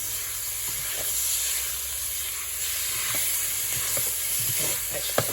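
Pork for a Polish pork and cabbage stew browns in an old saucepan, hissing and sizzling steadily up close with scattered small pops and spits.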